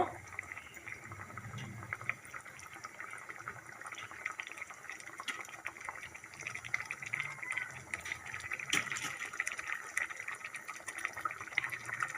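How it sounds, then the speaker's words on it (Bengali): Katla kalia, a Bengali fish curry, bubbling steadily in a pot, a continuous close simmering gurgle that holds even with no talk. "এই দেখুন আমার কাতলা কালিয়া ফুটছে"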